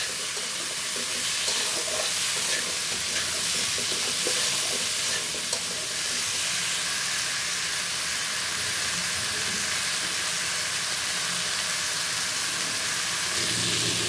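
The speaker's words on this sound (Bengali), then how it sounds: "দেখো হলুদ দিয়ে একটু আলু বেগুনটা ভেজে নিব।" Potato and eggplant fry with turmeric in a pan, giving a loud, unbroken sizzle of hot oil that holds steady throughout, close and with no one speaking.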